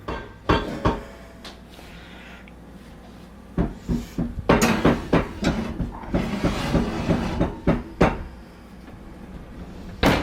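Metal baking pan clatters and scrapes as biscuits are slid into a home oven, followed by the thud of the oven door closing; scattered clanks and knocks with quiet gaps, no talk.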